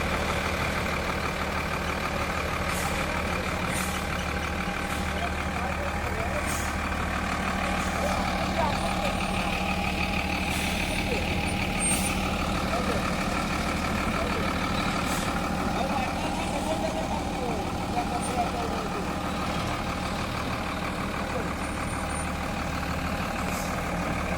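A truck delivering laterite stones to a construction site runs its engine with a steady loud rumble, brief faint beeps and hisses cutting in, while people talk nearby.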